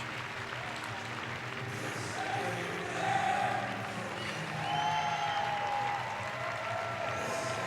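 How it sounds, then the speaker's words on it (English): Ultimate frisbee players applaud their travelling fans at a championship final, steady crowd clapping swelling and easing under a commentator's voice. "Madison Radicals are right now applauding their fans who have made the trip."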